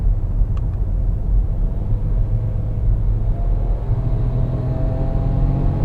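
A 2018 Ford EcoSport's engine drones steadily from inside the cabin while driving, a low rumble with a slight rise as it is downshifted manually with the buttons in sport mode.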